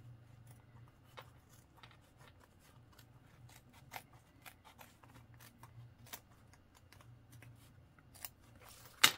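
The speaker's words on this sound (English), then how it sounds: "I've been taking my duckbill scissors" Duckbill scissors snip fabric while trimming a sewn bag pocket, in quiet, irregular clicks over a low hum, with a sharper clatter at the very end.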